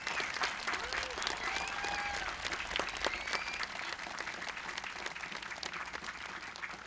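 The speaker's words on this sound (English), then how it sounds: "So let's give our volunteers, our staff here at the cemetery, a big round of applause." Outdoor crowd applause at a Memorial Day ceremony in a cemetery, honoring the volunteers and staff, with scattered sharp claps and some cheering and voices over a steady, fairly distant wash of clapping.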